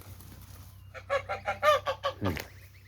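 A goose honks in a quick series of loud nasal calls, several short blasts in a row, close by over a low background hum.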